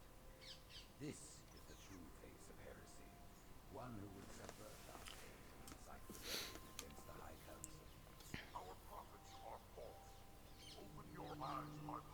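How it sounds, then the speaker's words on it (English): Birds call outside an open window, scattered chirps and short calls at a distance, faint beneath quiet indoor sound. "A lot of birds flying by right now. I've got my window open"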